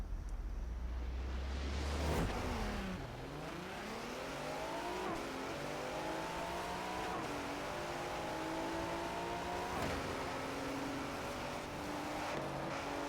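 A Ford GT race car in a Forza Horizon 4 race event, its engine revving and climbing through gears in a series of rising sweeps, loud and continuous after a brief burst at launch.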